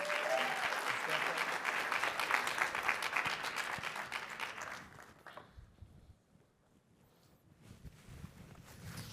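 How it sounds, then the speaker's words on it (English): A conference audience at UC Berkeley applauds its panelists with sustained, full clapping that rolls on for several seconds, then fades away into a quiet hall with faint shuffling. "let's give a warm round of applause to our panelists"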